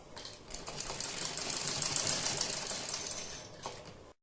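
Sewing machine stitching the lining of a suit or kurti, a steady mechanical whirr with rapid needle ticking that builds, runs for a few seconds close by, then stops abruptly.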